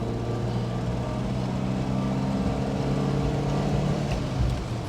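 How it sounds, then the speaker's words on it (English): 1973 Alfa Romeo Giulia 1300 Super on a farm road, heard from the passenger seat as a steady engine hum with road and wind rumble, fairly quiet and continuous while the car pulls through the gears. "here we are on the farm road, going up to the gears, second,"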